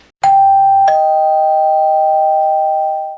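A two-tone electronic doorbell chime, a high ding then a lower dong that rings out and fades slowly.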